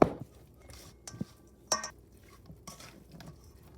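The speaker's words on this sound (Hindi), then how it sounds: "अभी इनको सबको मिक्स करेंगे।" Soya chunks stirred and mixed with turmeric and paprika in a kitchen bowl: a handful of irregular close-up scrapes and clinks of a spoon against the dish, spaced out between quiet pauses, with no talking.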